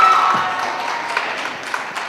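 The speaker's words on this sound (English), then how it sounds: "I appreciate the applause." Audience applause at a secondary school jazz winter concert just after a performance, a fairly full, steady patter of many hands that eases slightly, with a faint ringing tone near the start.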